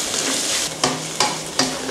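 Pork stomach and champignon mushrooms stir-fried together in a hot pan give a steady broadband sizzle, cut by three sharp scraping strokes of the spatula about every 0.4 seconds.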